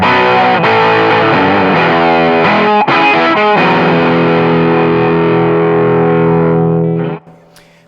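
Semi-hollow electric guitar with a darker tone, played through a Warm Audio ODD Box V1 overdrive pedal on its US setting with the tone knob maxed. Loud, crunchy strummed chords ring out and sustain, then are cut off abruptly near the end.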